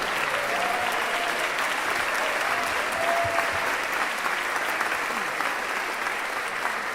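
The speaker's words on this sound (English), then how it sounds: "Let's give a big round of applause to our first timers here." Sustained crowd applause fills a Braver Angels national convention hall for first-time attendees, a dense steady roar of many hands lasting several seconds with no voice on top.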